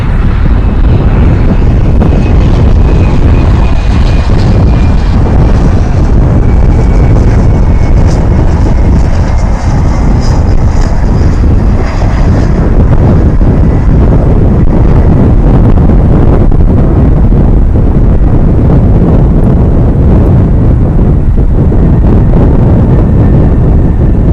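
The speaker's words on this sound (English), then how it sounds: "It's a 777, and it's traveling over from the international terminal on the west side, headed over to the east side of DFW" Boeing 777 taxiing across DFW airport from the international terminal on the west side toward the east side, a loud continuous rumbling engine roar with wind buffeting the microphone, steady throughout and no talking.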